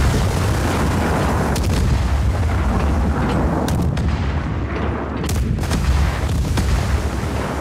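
Dense video-game gunfire with heavy artillery-like booms, a character shooting in both directions, rumbling continuously and loudly with sharper bursts breaking through the steady roar.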